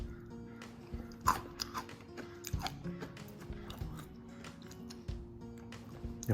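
Crunchy Moon Cheese crisps loaded with guacamole bitten and chewed close to the mic, a sharp first crack followed by a run of crackly, irregular chewing crunches.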